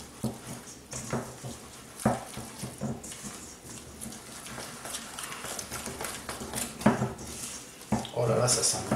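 Shrimp accras batter is stirred in a bowl, with scattered scraping and clinking of a utensil against the bowl while someone talks over it throughout.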